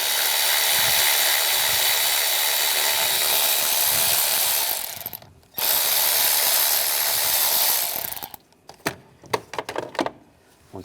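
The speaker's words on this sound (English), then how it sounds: "Using a 10mm socket, loosen up the bolt" On a 2010-2016 Cadillac SRX, a ratchet with a 10mm socket loosens an ignition coil bolt. Long dense buzzing bursts with a brief gap are followed by a run of sharp, rapid clicks and knocks up close.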